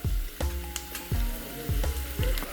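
Tomatoes drop into onions frying in a pan for a dhaba-style kaju masala curry, with a strong sizzle and repeated stirring scrapes of a spoon roughly every half second, loud and close.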